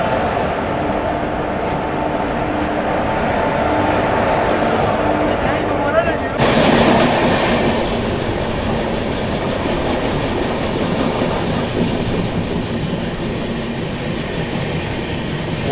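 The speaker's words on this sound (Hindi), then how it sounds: "यहाँ पर अटैच कर दिया गया है 3 WAG7 लोकोमोटिव" Passenger train running with three WAG7 banker locomotives coupled on, a steady loud rumble and rattle of wagons on rails throughout, with a louder surge partway through and voices faintly underneath.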